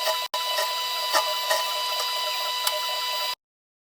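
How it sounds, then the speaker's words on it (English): A sewing machine stitching an Ankara fabric ball dress, giving a steady whirring hum for about three seconds with a few faint ticks before cutting off to silence, with no talking. "I want to start sewing."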